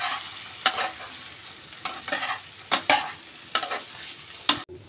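Tangra fish curry with chilli and spices is sautéed in a pan, its soft steady sizzle broken by repeated scraping strokes of a spatula, about six of them, close by with no voices.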